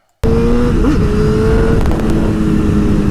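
A Honda CBR1000RR sport motorcycle engine starts revving sharply and holds a loud, high-pitched roar, the pitch rising and dipping as the throttle is worked.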